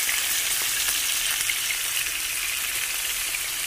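Tuna (tulingan/tambakol) frying in a pan for Visayan-style escabeche, a steady, close, loud sizzle with fine crackling spread evenly through the whole stretch, with no talking.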